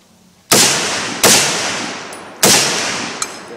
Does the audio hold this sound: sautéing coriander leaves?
no